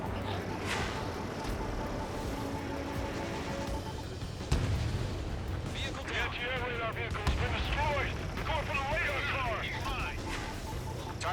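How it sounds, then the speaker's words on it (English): Anti-aircraft guns fire in the Ace Combat 7 flight combat game, a dense, continuous rattle of bursts and booms mixed with jet roar and radio chatter voices throughout. "They've got their anti-air guns aimed right at us."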